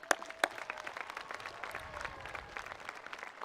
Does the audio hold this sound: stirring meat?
no